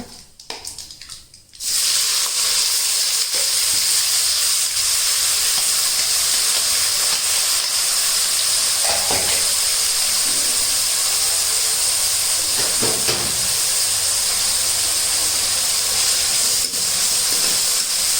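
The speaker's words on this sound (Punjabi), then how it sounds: "ਲਓ ਜੀ ਆਪਣੇ ਪਿਆਜ਼ ਅਦਰਕ ਲਸਣ ਤੇ ਹਰੀ ਮਿਰਚਾਂ ਭੁੱਜ ਚੁੱਕੇ ਚੰਗੀ ਤਰ੍ਹਾਂ" Onions, ginger, garlic and green chillies frying in hot oil with cumin, bay leaf, mustard seeds and cinnamon, for chole: a loud, close, steady sizzling hiss after a brief quieter start.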